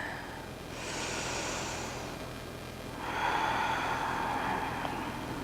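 Two slow, audible breaths taken while holding a yoga pose during a hip-opening practice, each a soft airy rush lasting a second or two, close and fairly quiet.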